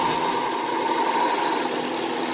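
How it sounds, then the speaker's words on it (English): A Suzuki Swift engine idles slightly high, with a steady, even hum that holds at a constant level for the whole stretch and no voices over it. "It is idling a touch high."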